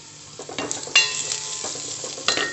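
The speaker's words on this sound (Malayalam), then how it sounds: "ഇഞ്ചിയുടെയും വെളുത്തുള്ളിയുടെയും പച്ചമണം മാറണ വരെ നന്നായിട്ട് വഴറ്റിയെടുക്കുക" Chopped ginger and garlic frying in a pan, a close sizzle with several sharp stirring scrapes and clicks of the spoon against the pan, no talk.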